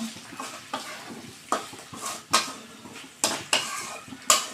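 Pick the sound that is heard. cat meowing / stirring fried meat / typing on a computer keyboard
stirring fried meat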